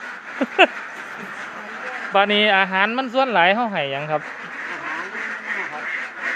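Laying ducks on a duck farm quack in the background, a nasal chatter running through while someone talks close by.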